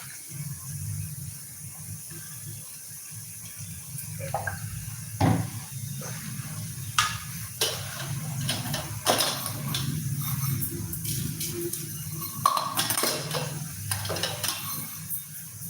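A metal wok clanks and scrapes on a stove a few times, with a light pouring of coconut oil and soft kitchen clatter in between.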